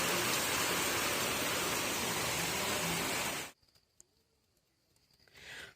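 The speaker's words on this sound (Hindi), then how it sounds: "लेकिन यहाँ बहुत तेज़ बारिश आ रही है।" Heavy rain driven slantwise by strong wind pours in the mountains, a dense, loud hiss that cuts off abruptly partway through, leaving near-quiet with faint sounds.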